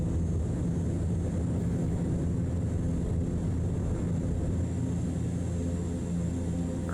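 A CL-415 water bomber rolls for takeoff in Microsoft Flight Simulator 2024, a steady loud engine drone with a broad rushing roar that holds constant throughout.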